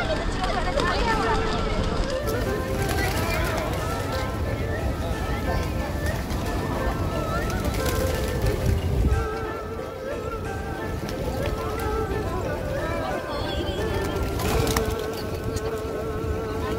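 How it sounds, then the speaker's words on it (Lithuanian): Pigeons flock around a public square in Malaysia's capital, wings fluttering and flapping close by over a dense wash of crowd noise and distant voices, continuous throughout. "O, kiek balandžių."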